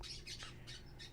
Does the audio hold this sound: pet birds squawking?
yes